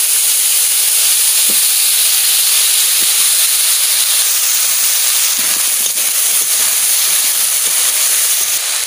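Banana pieces dropped into a hot kadai after fish, a constant loud sizzling hiss with a few soft knocks and stirring scrapes, no voices.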